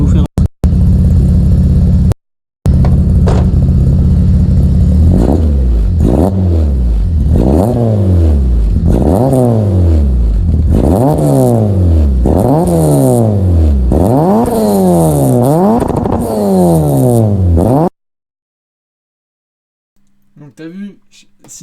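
Peugeot 106/Citroën Saxo 1.1 engine, warmed up, starts and then revs repeatedly in close, loud, evenly spaced bursts that climb and fall, before cutting off into silence with faint sounds at the end.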